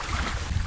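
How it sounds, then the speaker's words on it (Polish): Wind roars across the microphone beside open water at Siemianówka reservoir during a competition, a loud, constant low buffeting that fills the short moment. "Będzie słabo słychać, bo wiatr dzieje."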